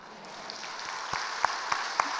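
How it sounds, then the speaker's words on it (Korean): A church congregation claps together during a Sunday worship service, a steady wash of hand claps with a few sharper, louder claps standing out near the end. "이왕 박수 치는 거 하나님께 영광의 박수를 치겠습니다."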